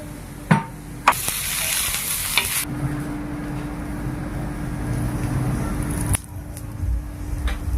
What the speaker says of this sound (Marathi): तिथे मस्त कांदा भाजतोय इथे करपवायचं नाही आपल्याला